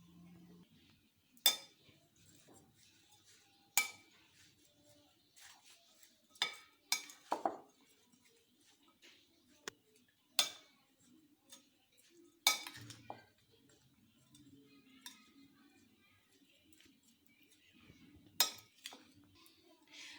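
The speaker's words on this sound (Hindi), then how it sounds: "तो चलें जी, अभी करेंगे हम इसको मिक्स।" A spoon stirring radish paratha filling in a bowl, sparse sharp clinks and scrapes against the bowl at irregular intervals, fairly quiet with near silence between strokes.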